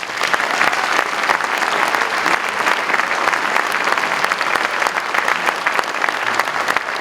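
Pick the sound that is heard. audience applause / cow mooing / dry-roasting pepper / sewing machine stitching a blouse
audience applause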